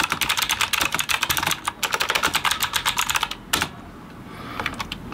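Fast typing on a gaming computer keyboard: rapid, crisp key clicks in dense bursts, close and clear, broken by a short pause and then a slower scattering of keystrokes.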